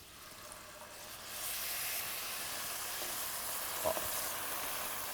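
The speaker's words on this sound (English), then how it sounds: "Now it's time I gotta put a little wine." Wine poured into a pan of sizzling risotto rice with onion, shallot and garlic for a shrimp risotto, the steady frying hiss swelling louder partway through and holding as a broad, close sizzle with no talking.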